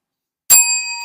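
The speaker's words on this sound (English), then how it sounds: "Bell." A single bright bell strike at a live auction sale, loud and close, sounding once after a moment of silence and ringing on with a steady, slowly fading metallic tone.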